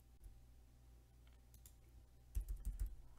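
Computer keyboard keys clicking as a search term is typed into a psychology article database, a quiet scattering of taps building to a denser burst of keystrokes near the end.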